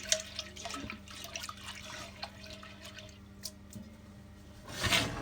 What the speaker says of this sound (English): So all you're doing is just washing that starch off.